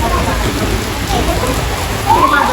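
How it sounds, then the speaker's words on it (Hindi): Heavy stormy rain pours down at the Baba Mast Kai Darbar shrine during a storm, a dense, loud, close hiss that runs without a break and swells briefly near the end. "इतनी तूफानी बारिश हो रही बहुत ज्यादा तेज"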